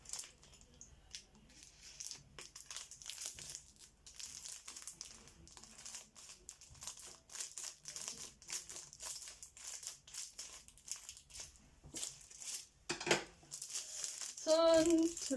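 Crinkling and cutting of the sealed plastic wrap on a book, El Club de la Ciència, handled close by: soft, quiet rustles and crackles in irregular bursts, with a brief louder crinkle near the end.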